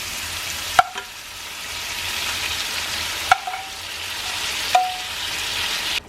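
Shrimp sizzle steadily in a pan as sauce goes in, a continuous hiss broken by three sharp clinks of a utensil against the pan, close and fairly loud with no talking.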